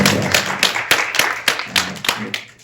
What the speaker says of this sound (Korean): 그래 우리 박수 한번 합시다.